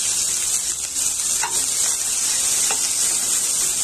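Chopped shallots and four garlic cloves sautéing in oil, a loud, continuous frying hiss with a couple of faint stirring knocks, no voices.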